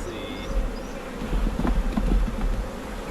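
Honey bees buzz steadily in a close, dense drone around an open hive during a late-May beekeeping inspection, the hum swelling and fading with no talking.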